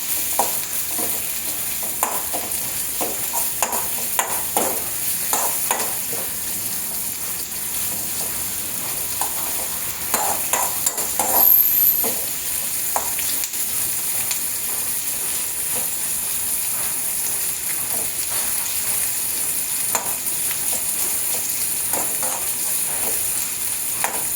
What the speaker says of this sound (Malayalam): ഒരു ചെറിയ സവാള വഴറ്റിയെടുക്കണം.